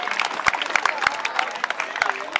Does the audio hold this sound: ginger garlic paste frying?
no